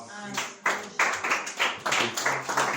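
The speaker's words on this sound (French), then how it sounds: "Applaudis pour toi." A church congregation claps in a quick, rhythmic series of sharp, fairly close hand claps during a French-language service, with voices mixed in.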